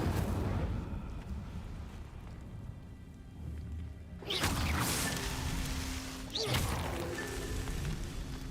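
Incendio fire spell cast in Hogwarts Legacy, two sharp whooshing bursts a couple of seconds apart over a low rumbling ambience, each flaring quickly and then fading.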